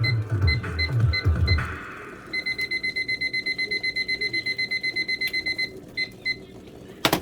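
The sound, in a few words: kitchen timer for boiling ramen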